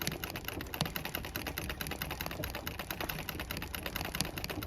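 Treadle embroidery sewing machine stitching a running-stitch fill: a fast, steady, continuous mechanical clatter, close and fairly loud throughout, with no voices.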